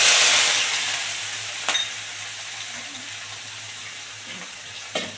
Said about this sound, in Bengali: এই যে এবারে চিংড়ি মাছটা ভেজে তুলে নেব